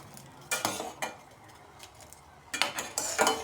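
Boiling jaggery tea stirred with a metal ladle, with a few brief clinks and scrapes against the pot separated by pauses, then a quicker cluster of scraping strokes over a faint bubbling hiss.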